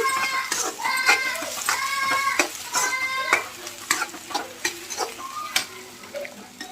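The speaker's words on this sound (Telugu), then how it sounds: "ఈ మసాలా అంతా కూడా బాగా వేగిపోవాలండి." Masala frying for chicken curry sizzles in a pan and is stirred with a few scraping knocks, while a rooster crows nearby several times.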